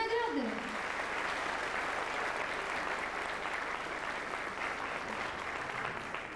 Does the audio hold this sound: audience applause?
yes